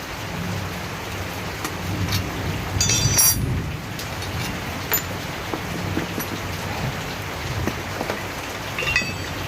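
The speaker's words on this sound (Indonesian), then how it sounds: "Sini hujan bos" Steady rain pours down outdoors, a dense continuous patter on surfaces with a few louder drops and splashes, fairly close and without any voices.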